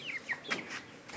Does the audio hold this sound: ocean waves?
no